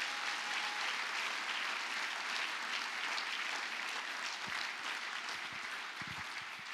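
Loud, dense applause from a church congregation, a continuous roar of many hands clapping that holds steady throughout and eases only slightly at the end.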